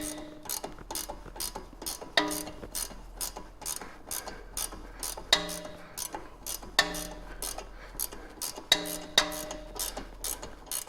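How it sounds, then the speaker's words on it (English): An 18mm ratchet tightens a front lower control arm bolt on a 2013 BMW X5, clicking in rapid, even bursts of pawl ticks, with short pauses between strokes, close and clear. "we'll take our 18mm ratchet and our T40 Torx. Tighten it up"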